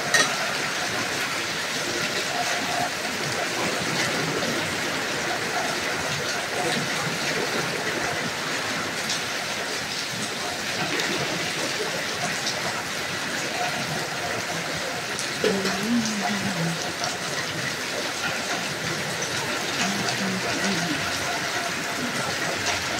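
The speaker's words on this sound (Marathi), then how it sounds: "कसा पाऊस पडतो बघा." Afternoon rain in Kalyan pours steadily, a continuous broadband hiss heard from beneath a shelter for the whole stretch, with a voice faintly present now and then.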